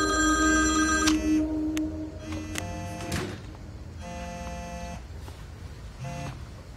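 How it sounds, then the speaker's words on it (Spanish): A telephone bell rings loudly in bursts, a long trilling ring followed by shorter repeated rings, close by with no talking over it. "¡Responde el teléfono!"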